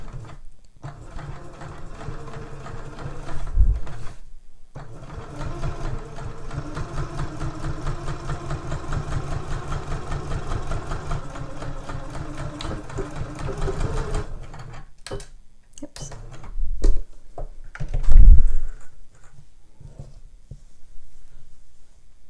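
Sewing machine stitching a seam on a zip tote bag: a steady, close whirring run of rapid needle strokes lasting well over ten seconds, then short stop-start bursts and a few bumps of handling.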